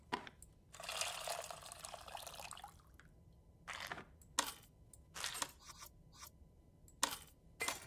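Tamarind being mixed by hand in a bowl of water in the cooking game Venba: a longer swishing slosh, then a run of short, separate splashes and drips, each fairly close and fairly quiet, with no talk over them.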